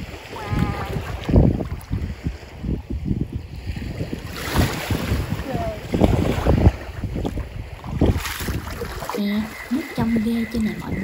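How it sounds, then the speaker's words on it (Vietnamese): Sea wind blowing along a coast beside very clear water, a steady gusty rush with buffeting on the microphone, while voices talk faintly underneath. "gió biển thì thổi thật là mát mẻ luôn."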